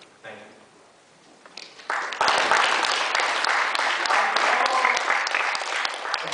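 Debate audience applause bursts in after a quiet start, swelling into loud, dense clapping from a crowd that carries on steadily to the end, with a voice briefly audible beneath it near the beginning.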